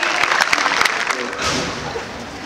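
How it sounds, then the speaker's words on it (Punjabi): A crowd at a school ceremony in Bahadurgarh claps together for a couple of seconds, brisk and dense at first, then thinning and fading out. "ਜ਼ੋਰਦਾਰ ਤਾੜੀਆਂ ਇਸ ਬੱਚੀ ਦੇ ਲਈ"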